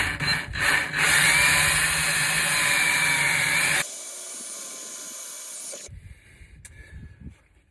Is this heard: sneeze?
no